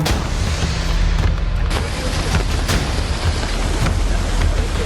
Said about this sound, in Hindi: आसमान से बरस रही बारिश लोगों के लिए जानलेवा साबित हो रही है